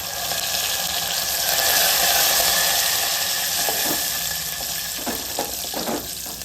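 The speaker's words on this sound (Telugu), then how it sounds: "ఇప్పుడైతే కరివేపాకు వేస్తున్నా" Curry leaves hit hot oil in a tempering of mustard seeds and onions, giving a loud, steady sizzle and crackle with a few sharper spits near the end; no voices.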